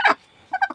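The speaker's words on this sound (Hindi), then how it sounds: "ये मुर्गी जो है लगता है कुड़क हो चुकी है" A broody desi hen on a farm gives a short, close pair of clucking calls with a pause between them.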